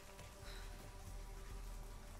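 Rain falls steadily in the video game Shadow of the Tomb Raider, a faint, even patter of drops spread across the scene with no breaks.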